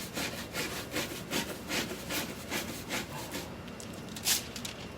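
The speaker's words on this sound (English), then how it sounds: "Take a little scrub brush, a little soft bristle scrub brush." A soft bristle scrub brush rubs foil onto a board in foil painting, giving a continuous scratchy brushing with quick rhythmic back-and-forth strokes, close and moderately quiet.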